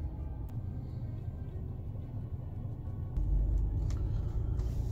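Car driven on the road for a catalytic converter readiness test, giving a steady low engine and road rumble that grows a little louder for the last two seconds, with no talk.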